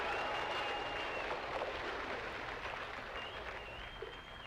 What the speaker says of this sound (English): I hear the crowd well enough.